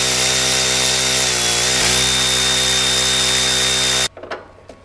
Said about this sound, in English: Powered ratchet will make your life a heck of a lot easier here.